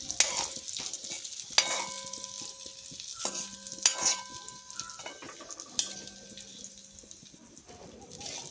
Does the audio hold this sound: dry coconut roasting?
yes